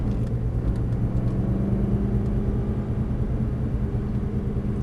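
An Aston Martin accelerates on a race track, heard from inside as a loud, continuous engine rumble with a steady low drone.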